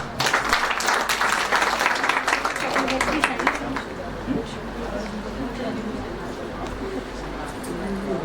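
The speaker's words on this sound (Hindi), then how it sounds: "और एक बार आपकी तालियां।" Audience applause at a Hindi book launch for lyricist Vijay Vagari, loud and dense at first, then thinning into scattered clapping under crowd murmur and a voice.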